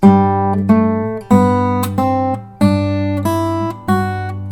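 Fingerpicked guitar plays a thumb-independence exercise, a repeating pattern with a steady low bass note under plucked upper notes, recorded close and clean, several bars with no talking.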